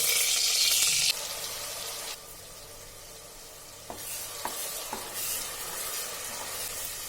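Onion paste hits hot oil and ghee in a pan for chicken biryani, starting with a loud hissing sizzle that drops to a quieter, steady fry, broken by a few sharp clicks from stirring.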